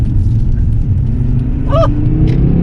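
A purple Volvo C70 coupe accelerates in sport mode, its engine a steady, loud low rumble heard from inside the cabin, with a brief higher tonal whine partway through.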